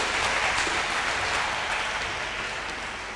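A church congregation claps steadily during a Sunday service held in a car park, a dense, even wash of applause that fades slightly toward the end.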